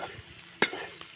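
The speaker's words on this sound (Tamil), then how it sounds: "வெங்காயம் கண்ணாடி பதம் வரைக்கும் நல்லா வதக்கிடுவோம்." Onions with tamarind and chili fry in oil in a pan with a steady soft sizzle, and one brief scrape of a spoon stirring them stands out.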